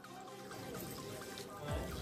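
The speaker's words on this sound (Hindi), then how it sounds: "अब हम इसको इसमें हम थोड़ा सा पानी ऐड करेंगे" Water poured into a pan holding drumsticks (moringa pods) while cooking a potato and drumstick curry, a soft continuous trickle and splash, fairly faint and close.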